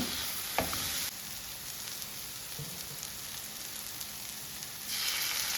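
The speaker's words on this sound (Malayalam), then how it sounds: "എന്നിട്ട് നല്ലപോലെ ഒന്ന് ഇളക്കി കൊടുക്കുക, തീ കൂടരുത്" Egg chilli dry fry with soy sauce sizzling in a pan as it is stirred, a continuous rain-like hiss that briefly grows louder at the start and end, with a sharp scrape near the beginning.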